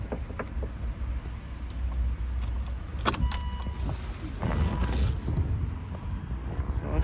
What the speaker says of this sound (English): You just hit it, and it puts all the windows down.